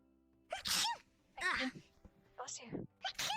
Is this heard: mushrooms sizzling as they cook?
no